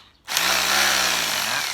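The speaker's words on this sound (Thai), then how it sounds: "ก็จะเป็นโหมดเจาะปูนนะฟังจากเสียงนะครับ" A rotary hammer drill set to concrete-drilling mode starts after a brief quiet moment and runs steadily at close range, a loud continuous motor whine with a dense rattling hammer texture, no talking.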